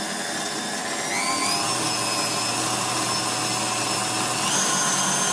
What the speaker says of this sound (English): we're going to start going with our mixer again